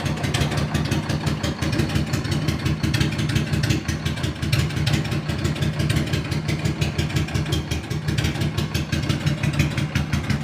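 A 1400cc V-twin motorcycle engine idles steadily up close, a loud, even low throb with a lumpy pulsing rhythm that holds for the whole stretch without revving.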